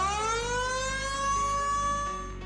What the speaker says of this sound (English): Some of the volunteer stations had large sirens that were not used for many years up and running for the event.